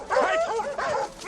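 Excited sled dogs give quick yips and whining barks in two short bursts, close and lively, with the harnesses coming out.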